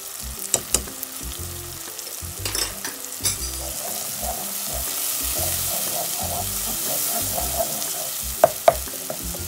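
Garlic-ginger paste sizzles steadily in a pan with a bright, hissing fry, while a spoon scrapes and knocks against it in irregular strokes.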